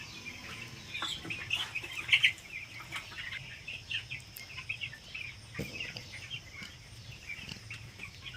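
Broiler chickens in a large flock of about 4,500 birds on a raised-floor poultry farm, with scattered faint chirps and clucks rising over a low, steady background.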